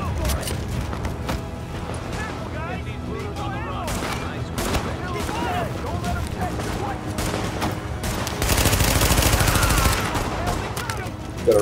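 Gunfire in the video game Tom Clancy's The Division, with rapid bursts and sustained automatic fire mixed with booms and mechanical clatter, a heavier volley near the end, and a voice talking over the action.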